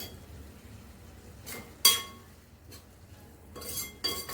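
Grated bitter gourd with coriander being stirred in a pan, a few distinct metallic clinks and scrapes of a spoon against the pan between quiet pauses, no voices.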